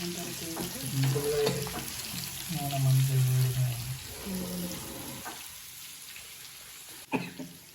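Tomato pickle ingredients fry in a pan with a continuous crackling sizzle, while a voice talks over much of it and a sharp knock sounds near the end.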